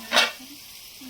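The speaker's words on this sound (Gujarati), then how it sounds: "તો શાક મેં વઘાર્યું છે." Vegetables tempered in hot oil in a home kitchen, giving a short, sharp burst of sizzling that fades quickly into quieter background noise.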